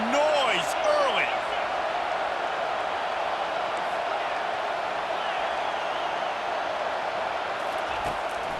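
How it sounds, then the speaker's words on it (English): Football stadium crowd at a UF vs NC State game, a steady loud roar of noise and cheering filling the whole stretch, with faint whistles and shouts rising near the start. "This crowd bringing the energy and noise early."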